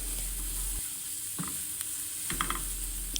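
Onions and spices sautéing in a home kitchen pan for a quick breakfast, a steady soft sizzle with a few light stirring clinks, close and without talk.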